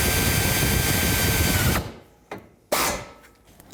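A power tool drives in a bolt on the A/C condenser of a 2003–2008 Subaru Forester, a loud continuous whir for almost two seconds followed by two short bursts after a pause.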